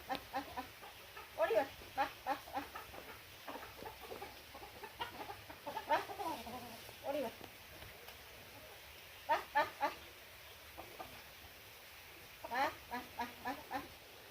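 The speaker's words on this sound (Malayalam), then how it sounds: "ഇതാണ്ട് പൂവൻകോഴിയാണ് വിളിച്ചോണ്ട് വന്നത്." A rooster and hens cluck in short, repeated bursts close by, with quiet pauses between the clucks in a rural Kerala home setting.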